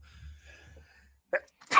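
Someone at a live football match-day broadcast sneezes once, a short, sharp burst that follows a quiet pause and a faint breath.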